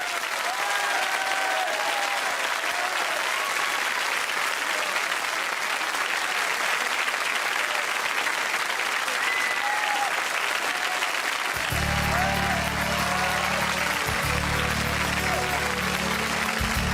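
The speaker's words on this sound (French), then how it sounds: "Je vous demande de l'applaudir très fort." A theatre audience applauds loudly and steadily for a singer at a televised show, broad clapping filling the space, with a low musical intro swelling in near the end.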